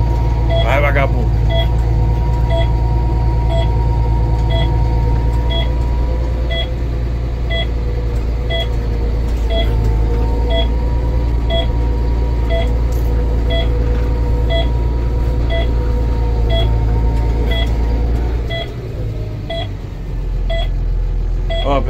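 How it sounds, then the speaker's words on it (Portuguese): Car with a CVT transmission accelerating, a loud steady engine drone that rises smoothly with no gear shifts, heard from inside the cabin, with beeping tones running throughout and a dip near the end. "esse aqui que é CVT, ó. Acelera e anda."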